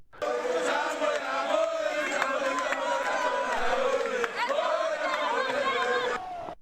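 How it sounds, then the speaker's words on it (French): A huge crowd at a political rally with party flags shouts and cheers in honour of Molendo Sakombi, a dense, steady roar of many voices with raised cries, loud and continuous throughout. "Tout le monde criait en honneur de Molendo Sakombi."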